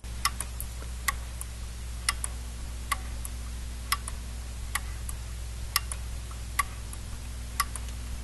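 A grandfather clock ticks evenly in beat, recorded from inside the case, with crisp, close ticks spaced about a second apart over a low steady hum.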